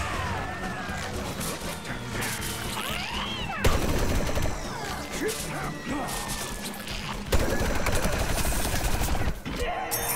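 Gunfire and explosive crashes in the video game Plants vs. Zombies: Garden Warfare 2, a dense, continuous barrage of rapid shots with sharp impact bursts at intervals, loud and busy throughout.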